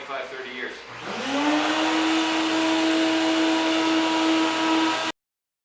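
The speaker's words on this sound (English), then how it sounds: "I got the hose on the exhaust for this shop vac" A shop vac with its hose on the exhaust blows decades of dust out of an old piano, starting up after a second and then roaring steadily and loudly with a whining tone until it cuts off abruptly.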